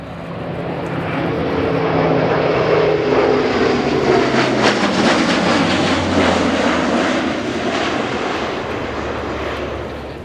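A German Air Force Airbus A400M Atlas turboprop transport makes a flypast at an air show, and its propeller drone swells to a loud, sustained roar, then slowly fades, with no talk.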